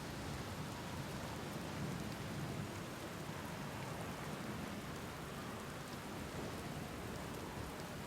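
Steady rain from a storm in Outer Wilds, a faint even hiss of falling water with low thunder-like rumble beneath, continuous and unbroken throughout with no talking.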